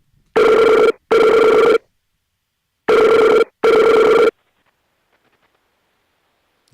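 A telephone rings through a Mac voice call in two double bursts, each a pair of loud, sharp electronic trills separated by a pause, followed by silence.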